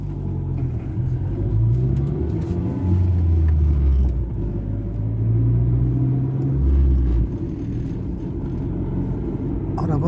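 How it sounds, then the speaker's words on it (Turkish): An old first-generation Renault Twingo's engine drones and rumbles from inside the cabin while driving on smooth asphalt, with faint ticking and rattling from the interior over the steady road noise. "arabanın tıkırdamadığı yer yok arkadaşlar"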